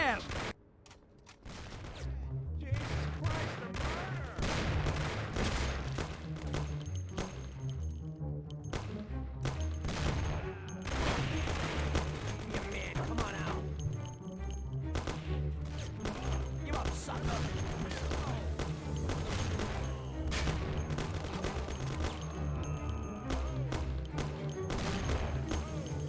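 Gunfire in the video game Mafia 1, sustained bursts of rapid shots and heavier shotgun blasts echoing over a tense musical score, with shouted voices mixed in.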